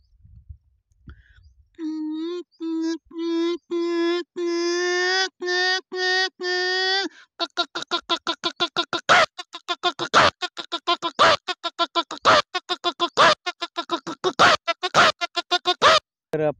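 A voice imitates a hen about to lay an egg, first a series of drawn-out tonal clucks, then a rapid run of sharp, clicking cackles, close and loud with no other sounds.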